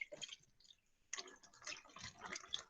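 Water poured into a dirty glass during a yoga and meditation demonstration: two splashy, gurgling pours close by, separated by a short pause, with no talking.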